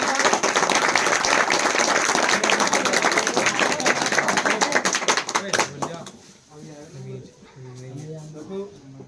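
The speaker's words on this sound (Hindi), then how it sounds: "तालियों से स्वागत करेंगे।" Audience applause welcoming the head teacher at a New Year celebration: dense, loud clapping for about six seconds that thins out and stops, followed by someone speaking.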